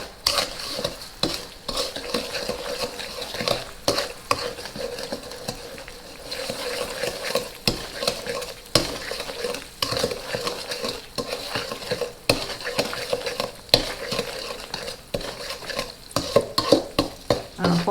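Melting butter being stirred in a pan for popcorn, with continuous scraping and utensil clatter against the metal over a soft sizzle, steady and close, with no talking.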